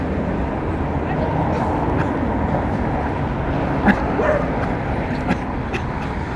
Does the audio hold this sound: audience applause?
no